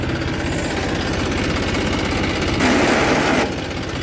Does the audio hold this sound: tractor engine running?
yes